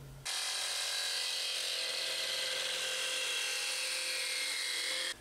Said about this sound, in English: I'm going to cut down that top piece of plastic about an inch. I'll be using a plastic jigsaw blade.